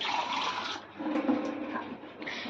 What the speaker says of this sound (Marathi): आता मी ह्याच्यात पाणी टाकलं आहे